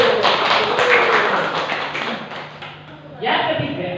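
Hands clap together for a teacher during a school vision mentoring session, a busy patter of applause from a small group, loud and close, fading out partway before a short burst returns near the end.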